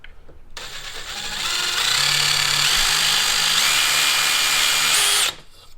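A power drill with a 1/4 inch bit spins up and drills straight in during a Rhino Rack Backbone install on a Jeep Gladiator, a loud close whine that rises, holds steady for several seconds, then stops abruptly.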